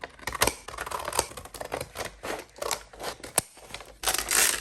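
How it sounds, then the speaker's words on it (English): Scissors cut along the crease of a recycled paper grocery bag, giving a steady run of close, crisp snipping and crinkling strokes with short pauses between cuts. "I'm just gonna cut right along this crease here."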